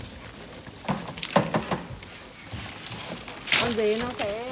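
Crickets raised on a rural cricket farm chirp in a steady, shrill, continuous trill close by, with soft rustling and a brief faint voice underneath.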